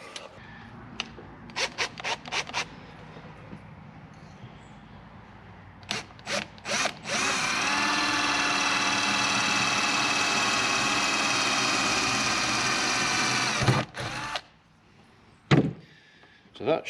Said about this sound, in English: So I'm going to drill a hole.